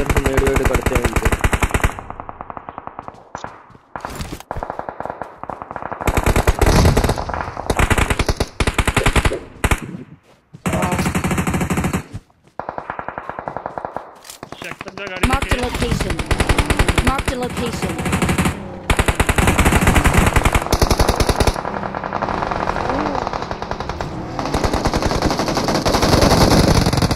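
Rapid automatic gunfire bursts during a firefight in the mobile battle royale game BGMI, loud and repeated in dense volleys with brief gaps, with voices talking over the shooting.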